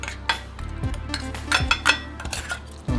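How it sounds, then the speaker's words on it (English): Drained tuna scraped from a can into a mixing bowl for tuna salad, heard as a run of close metal-on-bowl clinks and scrapes with a steady low hum beneath and no talking. "you're gonna put it in a bowl."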